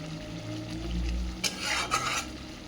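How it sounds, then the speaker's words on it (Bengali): Biryani masala powder fries in a pan for a vegetarian paneer biryani while it is stirred steadily, giving a soft, continuous sizzle with a few louder scraping strokes partway through and no talking. "এবার এভারেস্টের বিরিয়ানির মশলার গুঁড়ো কিছুটা দিয়ে দিচ্ছি, দিয়ে ভালো করে কষিয়ে নেব।"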